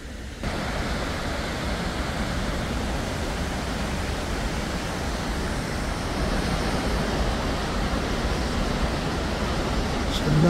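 A steady, broad rush of falling water from a Swiss waterfall near Lenk roars continuously, even and full, with a bit of wind buffeting the microphone.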